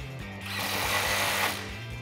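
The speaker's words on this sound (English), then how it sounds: "now you can grab your socket and tighten this down once you have it flat" Socket wrench ratcheting to tighten an exhaust clamp on a muffler of a 2009-2013 Silverado 1500 4.8L dual exhaust, a quick steady run of clicks close up over a low hum, with no talking.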